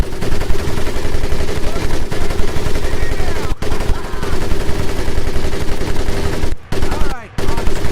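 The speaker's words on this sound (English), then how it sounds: "M1919A4 30 caliber machine gun." An M1919A4 .30 caliber machine gun fires in a World War II Pacific combat video game, a loud, continuous rattle of rapid shots with brief cut-offs, backed by dense battle noise.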